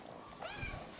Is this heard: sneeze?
no